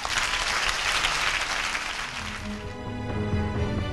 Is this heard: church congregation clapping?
yes